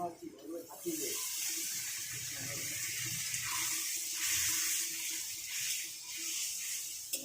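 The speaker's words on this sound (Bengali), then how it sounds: "এবার জল দিয়ে দেবো" Water pours steadily into a cooking pot of potatoes, a bright continuous splashing hiss that lasts several seconds close by. A voice talks at the start.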